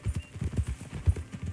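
Horse hooves clip-clopping in Red Dead Redemption 2, a quick regular trot of dull thuds, close and steady, with no voices over it.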